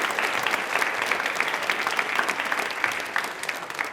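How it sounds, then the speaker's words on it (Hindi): A studio audience at a quiz show claps loudly and steadily, a dense, close burst of applause with no voices over it. "ताली एक बार बजा दीजिए इनके लिए जोरदार वाली।"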